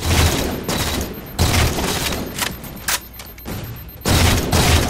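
Gunfire in the Halo video game, loud close shots in several bursts with short gaps between them, booming and sharp, no talking.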